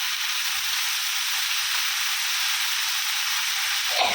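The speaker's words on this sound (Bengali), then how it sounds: "তো শাকটা বসিয়ে দিই, পেঁয়াজ দিয়ে লঙ্কা দিয়ে ফোড়ন দিয়ে দিয়েছি।" Greens frying in a pan with an onion and chili tempering, a loud, continuous, even hiss of sizzling oil close by, with no talk.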